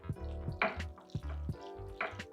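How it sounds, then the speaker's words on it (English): Liquid pours and drips over a vegan macaroni pie in a kitchen, a soft close gurgling and dripping in several short uneven bursts. "pour that all over your macaroni"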